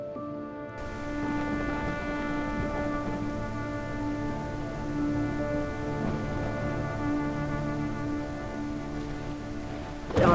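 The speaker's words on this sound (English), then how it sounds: "there was a thunderstorm, a rainstorm." A heavy thunderstorm with rain gives a dense, steady roar of rainfall that runs the whole way through. Low rumbles and sustained droning tones sit beneath it, with no voices.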